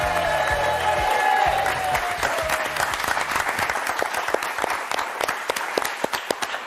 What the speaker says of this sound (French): grâce à vos applaudissements chaleureux, on va accueillir Thierry Beccaro